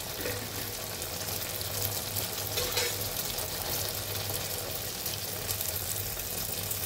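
Chhana balls fry in hot oil in a kadai, giving a continuous bubbling sizzle with occasional stirring and scraping, steady and close throughout.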